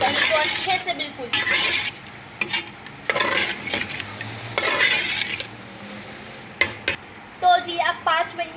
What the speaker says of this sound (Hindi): इसमें अपनी दही जो है वो ऐड कर देनी है। अच्छे से मिक्स कर लीजिए इसको, मसाले को और दही को अच्छे से बिल्कुल।